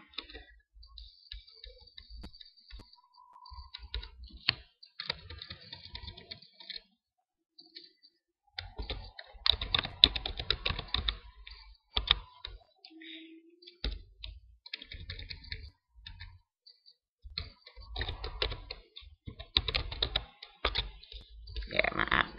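Computer keyboard typing sounds in quick irregular bursts of light clicks, close and dry, pausing now and then before resuming, with no one speaking.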